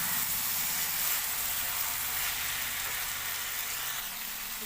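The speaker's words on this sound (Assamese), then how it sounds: "ধুনীয়াকৈ ভাজিব লাগে" Broiler chicken meat fries in a pan with a loud, steady sizzle and hiss that holds unbroken throughout, with no voices.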